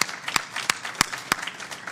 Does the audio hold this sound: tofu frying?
no